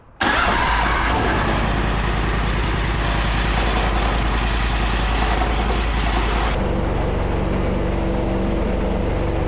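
A large Harbor Freight Predator 670 V-twin engine fitted to a Toro mower cranks and catches, then runs loud and close at a rough, steady idle before dropping to a lower, heavier throttle note.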